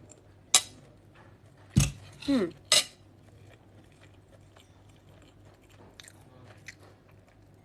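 A few distinct clinks and scrapes of cutlery against a plate as someone eats home-cooked chop suey and fried chicken, four sharp bursts close together early on, then quiet with faint soft sounds.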